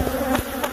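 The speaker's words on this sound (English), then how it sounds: "And these are one of the nastiest hives I've seen." A swarm of angry bees buzzes around a large, aggressive hive at a hospital, a dense, continuous close drone with overlapping wingbeat tones filling the whole moment.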